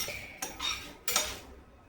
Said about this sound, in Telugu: ఒక 8 లవంగాలు, 5 యాలకులు, ఇలైచి అండ్ దాల్చిని కొంచెం అండ్ ఎండుమిర్చి. వీటన్నిటిని డ్రై రోస్ట్ చేసుకుందాము.